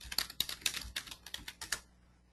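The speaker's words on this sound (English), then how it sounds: "I could type." Rapid keystrokes on a computer keyboard, close and fairly loud, in an irregular run of about a dozen clicks lasting two seconds before stopping, with no voices.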